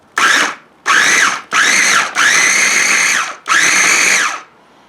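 A small kitchen blender whirs in five loud, close bursts, with short silent gaps between the pulses and two longer runs in the middle, while a curry with peas and paneer is being made.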